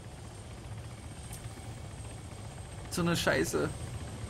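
In the Arma 3 video game, a helicopter's steady low rotor thrum and engine drone run throughout at moderate distance, while a man swears briefly near the end.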